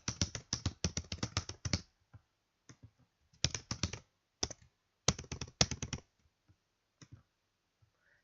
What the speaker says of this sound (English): Oh, I've got to type that in right.